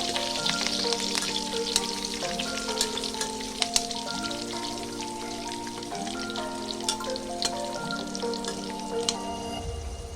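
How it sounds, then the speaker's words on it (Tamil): Onion, curry leaves and garlic sauté in a pan over low heat with a steady crackling sizzle, heard beneath looping background music. "இப்போ வெங்காய சாரி கருவேப்பிலையும் நல்லா பூண்டு நல்லா வதக்கிக்கலாம்"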